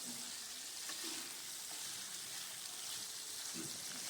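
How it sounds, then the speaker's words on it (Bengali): Potato pieces fry in a little oil for a village-style fish curry, a faint but continuous sizzling hiss with soft stirring sounds heard from close by. "আমি কম তেলে করব বলে আমি তেল দিইনি আর আলুটা একটু ভাজা ভাজা করে নেব"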